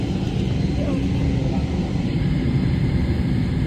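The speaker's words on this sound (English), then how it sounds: "now it's time for taxiing to the runway" A Garuda Indonesia airliner taxis toward the runway, heard from inside the cabin as a steady loud engine rumble and broadband hiss, with faint voices beneath.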